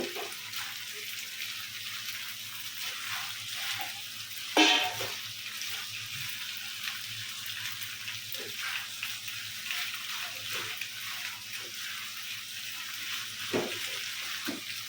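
Chopped onion and spring onion sizzle steadily in a pan while making hotel-style cheese pasta, a soft continuous frying hiss with a couple of brief clinks or stirring knocks, fairly quiet and close.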